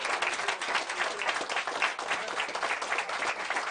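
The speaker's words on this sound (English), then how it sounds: "Ladies and gentlemen, give her a round of applause." An audience gives a continuous round of applause for a magician's assistant during a magic show, dense even clapping at moderate volume for the whole few seconds.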